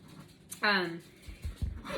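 A dog gives a brief high-pitched whine nearby, with soft panting and shuffling noises around it.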